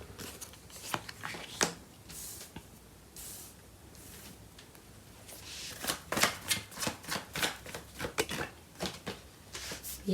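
Tarot cards being shuffled during a love reading, soft repeated riffling bursts that grow denser toward the end, quiet and close with no talk.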